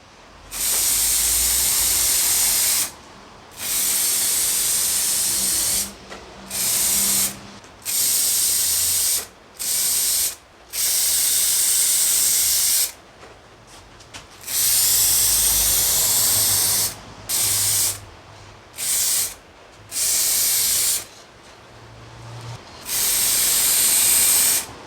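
Spray gun hissing out a second coat of paint onto car parts, loud repeated bursts of several seconds each separated by short pauses, with no talking.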